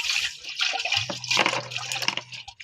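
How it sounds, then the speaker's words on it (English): Water splashes and swishes as a sufuria cooking pot is rinsed outdoors in a Kenyan village, a short run of close pouring and sloshing. "Then you can rinse our sufuria because it has stayed outside without being covered."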